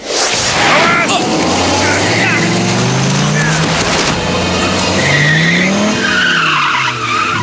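A car skids with loud, sweeping tire squeals as it runs a person down, the screech rising and falling over roaring engine noise, with dramatic voices and music mixed in.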